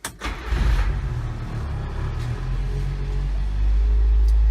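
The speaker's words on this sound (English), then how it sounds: "Let me start it up, show you how it sounds." The engine of a 1991 Subaru Sambar 4WD Japanese mini truck cranks and catches, then settles into a steady, close idle rumble that grows slightly louder toward the end, with no talking.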